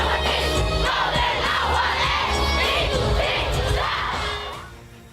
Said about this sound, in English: The crowd at Hyde Park roaring the lyrics back at the stage